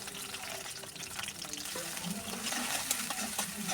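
Chopped onion dropped into soybean oil in a wok sizzles softly and steadily, with a few light clinks and scraping stirs over a faint watery background, close by and not loud.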